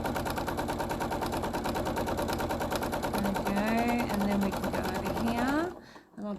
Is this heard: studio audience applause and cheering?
no